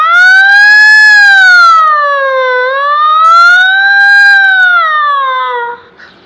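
A voice imitates a police siren: a loud, wavering wail rising and falling twice, alone, trailing off at the end.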